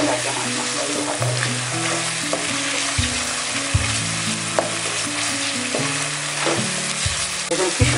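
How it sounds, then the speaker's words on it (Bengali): Whole spices fry in a hot pan for Bengali dum aloo, a steady dense sizzle with stirring scrapes and clinks running throughout, loud and close with no talk. "এখন আমি মশলাগুলি একটু ভেজে নেব।"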